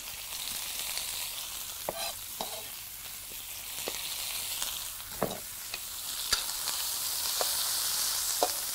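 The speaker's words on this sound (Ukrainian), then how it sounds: "Припускаємо цибулю" Onion sautéing in a pan over an outdoor campfire, a steady soft sizzle with scattered clicks and scrapes of stirring throughout, growing a little brighter toward the end; no one speaks.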